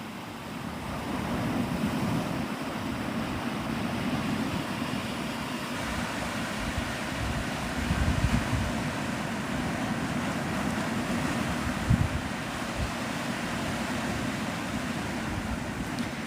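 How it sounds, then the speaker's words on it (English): Surf rolls in continuously at Navarre Beach, Florida, a steady wash of breaking waves mixed with gusting wind buffeting the microphone, with a couple of slightly louder surges. "this is Navarre Beach,"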